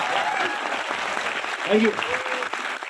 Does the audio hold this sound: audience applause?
yes